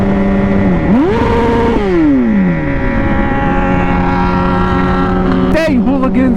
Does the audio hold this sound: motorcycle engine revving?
yes